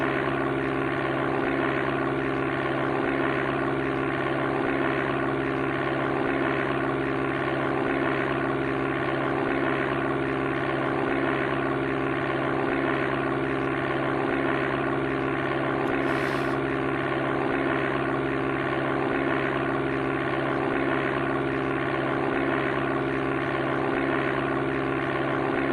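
Steady, continuous drone of a simulated propeller airplane engine cruising at 150 knots on a Japan tour flight in Amiga Flight Simulator II, loud and unbroken throughout with no talk.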